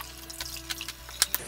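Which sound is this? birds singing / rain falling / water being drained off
water being drained off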